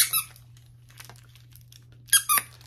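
A cheap plush dog toy squeaked by hand: a sharp squeak at the start, a couple of faint small ones mid-way, then two loud close squeaks in quick succession near the end over a low steady hum.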